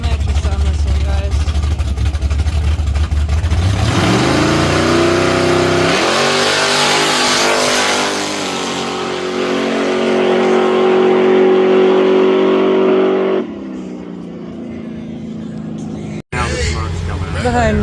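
A car running a 400 shot of nitrous accelerates hard, engine pitch climbing steeply through a long loud pull before cutting off, with a voice talking over it.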